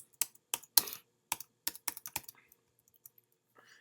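Fingers typing on a computer keyboard, a quick burst of distinct close clicks in uneven rhythm, then sparser taps trailing off into silence.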